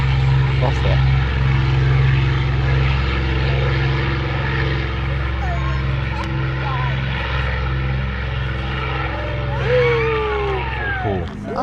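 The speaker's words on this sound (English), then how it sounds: "That was my first time seeing a plane." A propeller airplane drones steadily overhead, its low engine hum and harmonic bands holding loud throughout, with people talking faintly underneath.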